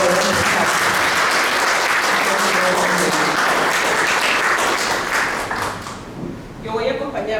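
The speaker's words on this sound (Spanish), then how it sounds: "Dediquemos un aplauso a Julia para poder empezar" A crowd at a tribute event claps loudly and steadily, the applause thinning out after several seconds as a speaker's voice comes in.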